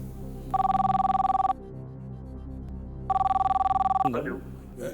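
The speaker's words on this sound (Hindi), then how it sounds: "फोन लगाया जाए" A telephone ring tone sounds twice in even, buzzing bursts on a game show set as a call is placed to a contestant's contact, with a voice beginning at the end.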